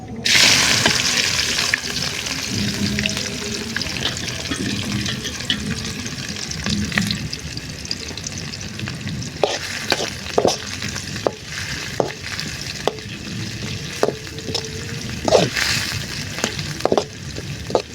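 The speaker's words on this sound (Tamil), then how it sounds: "அப்படியே போட்டு கிண்டிப்போம் வெங்காயம் போட்டுப்போம் ஆனியன்" Onions sauté in oil with cardamom in a large pan over an outdoor village cooking fire, a continuous sizzle with repeated sharp scrapes and knocks from stirring, growing more frequent toward the end.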